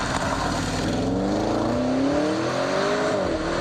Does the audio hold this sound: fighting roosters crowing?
no